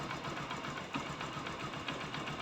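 A Kawasaki Barako II motorcycle idles cold with its carburetor tuned, making a steady, dense engine chatter with quick regular pulses. It stays even and unbroken throughout, with no voices.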